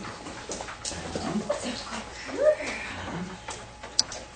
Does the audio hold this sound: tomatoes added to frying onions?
no